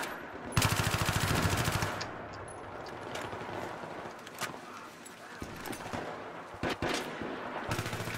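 Gunfire in the Battlefield 3 multiplayer video game: a burst of rapid shots, then scattered sharp reports and a few louder single cracks, heard under a player's intermittent talk.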